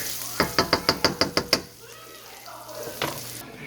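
Pork for fried rice sizzles in a pan over moderate heat, with a quick run of about eight sharp knocks or scrapes of a utensil against the pan, then softer frying crackle and a short voice.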